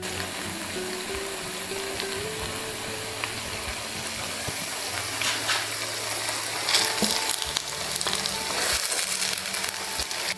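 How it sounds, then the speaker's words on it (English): Eggplant slices frying in hot oil in a pan in a rural Chinese kitchen, a steady close sizzle and crackle that swells slightly partway through, alone with no talk. "Amidst the satisfying sizzle of the oil, the aroma instantly fills the room."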